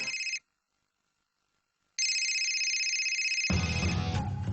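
An electronic telephone ringtone trills loudly in two bursts separated by a silent gap, and other sounds rise in beneath the second ring toward the end.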